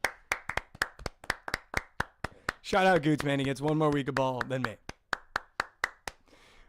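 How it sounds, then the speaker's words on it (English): Steady, evenly spaced hand claps from a small group in a sports talk show studio, sharp and close, pausing while someone talks over them and then resuming at the same brisk rhythm. "Actually, round of applause for Goots."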